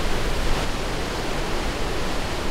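The Potomac River's Great Falls in Virginia, water pouring over jagged rocks through a narrow gorge, makes a steady, even rushing roar, constant and unbroken, with no other sounds.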